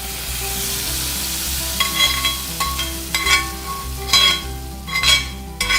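Crispy fried vathal and ghee being stirred into kuzhambu in a pan, with a steady background sizzle and bursts of scraping, stirring strokes roughly once a second, close and clear with no talking.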